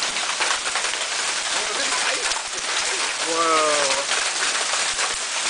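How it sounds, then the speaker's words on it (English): Large hailstones pounding down in a severe storm, a dense, continuous clatter and hiss throughout, with a startled voice exclaiming over it. "Look at the hail!"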